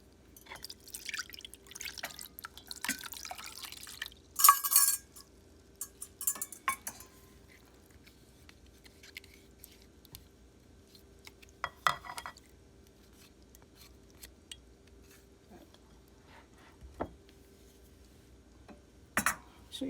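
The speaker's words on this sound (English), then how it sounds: "So you just mix it." A utensil stirs vattayappam batter in a bowl, giving sparse, quiet clinks, taps and wet scrapes at irregular intervals, close up, with no voices.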